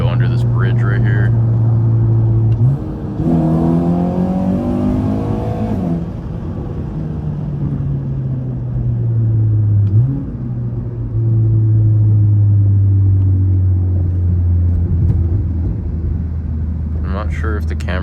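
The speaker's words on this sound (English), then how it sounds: "it does have some pops from the exhaust even without a tune" Modified 2022 Acura ILX A-Spec exhaust while driving: a steady, loud low drone with rising and falling engine tones as the car accelerates and eases off, and a voice talking briefly over it.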